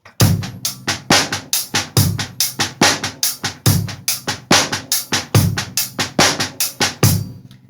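A tight drum kit plays a busy, funky groove with kick, crisp snare backbeats and soft ghosted snare strokes between, steady and close.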